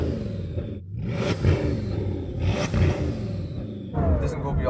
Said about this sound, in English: Go on, rev it then. Let's hear the revs.